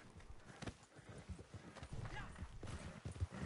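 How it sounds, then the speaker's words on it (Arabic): Horse hooves clip-clop in the video game Red Dead Online, a quick, even run of thuds at close range under a low background hum. "روضت حصان"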